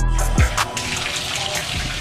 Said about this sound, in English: you know I have to check my shower pressure